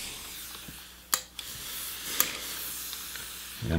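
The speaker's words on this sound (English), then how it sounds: "And I'm just shooting it with steam, going around it." A gravity feed steam iron hisses steadily while pressing a men's T-shirt during sewing, with two sharper spurts of steam standing out from the continuous close hiss.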